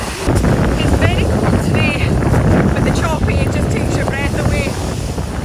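Strong wind gusts roar steadily across cold, choppy open water, loud and continuous as buffeting against the microphone, with faint squeaky cries from birds or people in the mix.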